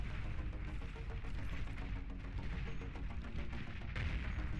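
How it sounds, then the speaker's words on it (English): Dense, sustained battlefield gunfire and booming artillery barrages from the Beyond All Reason strategy game, with rapid overlapping shots and low rumbling impacts filling the whole stretch at steady loudness. "We are seeing some Tech 2 artillery on the field starting to come out."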